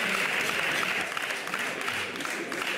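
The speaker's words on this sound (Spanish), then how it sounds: "en las bancadas socialistas no todos aplauden con la misma intensidad las palabras del candidato Méndez" Sustained applause fills a parliamentary chamber as members clap from the Socialist benches, a dense, steady wash of many hands at close to moderate distance with no voices standing out.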